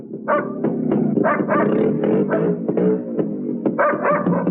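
A dog barks and growls in an old Hindi film scene, a run of close, loud, rapid barks with snarling in between, with no talk over it.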